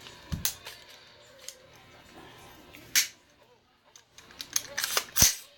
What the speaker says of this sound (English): give it a rack just to make sure the bolt's going to function properly